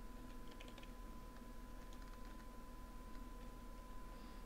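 Typing on a computer keyboard, with quiet scattered key clicks in small clusters over a steady electrical hum and background hiss, and no talking.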